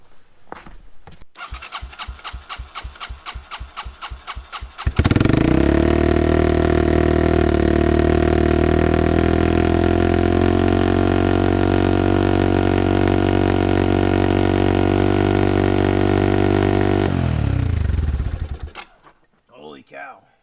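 A 1986 Yamaha Moto4 YFM200 DX shaft-drive ATV with a freshly tuned carburetor cranks over in rapid chugging pulses, catches, and revs hard to a loud sustained roar before dropping off, with a few faint sounds after.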